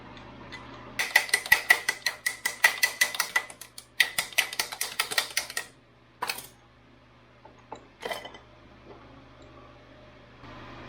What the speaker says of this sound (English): I'm going to pull the cylinder off